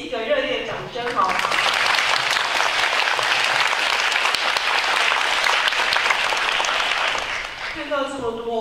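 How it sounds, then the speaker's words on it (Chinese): Warm applause from a literary forum audience at the Taipei Literature Festival fills the room, a dense steady clatter of many hands lasting several seconds, with brief talk before and after it. "我们先给彼此一个热烈掌声"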